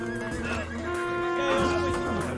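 Horse whinnying in the video game Rustler, a harmonic neigh that rises and wavers over about two seconds, loud and close, alongside game sounds.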